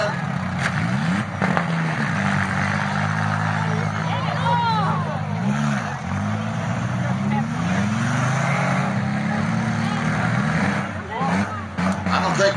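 Minivan engine idling in a demolition derby arena, a steady rumbling drone heard at a distance with engine pitch shifting, under crowd noise and an announcer talking over it.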